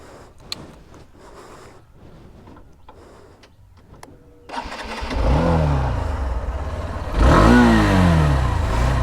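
A Hero Thriller 160R motorcycle starts up and runs, quiet clicks and shuffling giving way to an engine catching and idling loudly, then a sharp rev with a rising and falling exhaust note, no talking.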